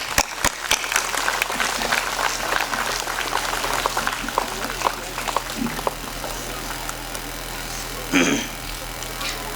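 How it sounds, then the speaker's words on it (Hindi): An audience at a school annual function claps for an arriving guest, a dense patter of hands heard close, with a voice and crowd murmur mixed in and a short loud swell near the end. "जनाब डॉक्टर शारिक अकील साहब, ज़ोरदार तालियों से उनका इस्तकबाल करें।"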